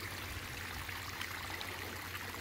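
A koi pond waterfall trickles and splashes in a constant, even, soft wash of running water with no voices.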